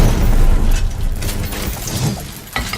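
An explosive goes off in Dishonored 2 with a loud boom, followed by rumbling debris, clattering and a sharp crack near the end.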